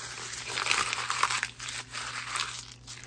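Paper crinkles and crumples in quick bursts during a cleanup after sharpening a knife, close to the ear and fairly faint, with irregular crunching handfuls and short pauses between them.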